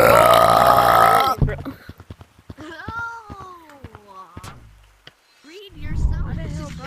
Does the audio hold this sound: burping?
yes